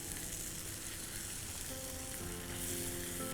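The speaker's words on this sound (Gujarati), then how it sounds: "ને હવે આપણે આને આ રીતે મેશ કરી લઈશું." Mysore masala dosa filling with red chili sauce mashed in a pan, a steady broadband sizzle of frying running throughout with faint scraping, no voices.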